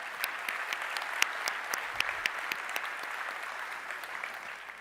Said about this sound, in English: how about we give each other a round of applause